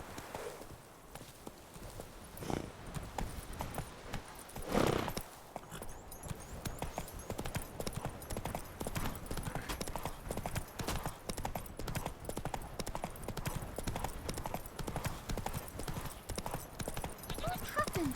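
Roach, the horse in The Witcher 3, clip-clops in a steady walking rhythm of close hoofbeats that runs throughout, with a voice talking over it now and then.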